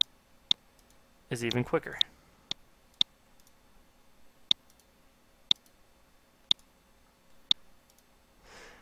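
Sharp, evenly spaced computer mouse clicks, about nine in all, tick roughly once per second while someone edits text and graphics in Adobe Illustrator; a short burst of speech cuts in near the start.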